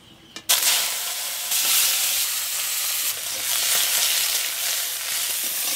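Crabs fry in very hot mustard oil with salt and turmeric in a large wok, a loud, steady sizzle that bursts up sharply after a brief quiet opening and keeps hissing throughout.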